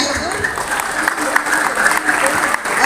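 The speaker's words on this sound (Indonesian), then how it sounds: "kepada Pak Gagah, kita beri tepuk tangan yang meriah" Dense, loud applause from a school crowd at an opening event, a continuous wash of clapping close by with a voice faintly underneath.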